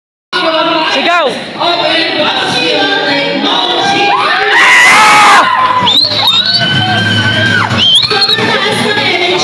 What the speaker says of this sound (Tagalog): Ito na, sisigaw na tayo.